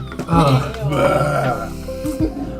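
A man burps loudly and close before drinking his beer. It is one long, voiced, croaking belch that wavers in pitch, with a short grunt-like tail.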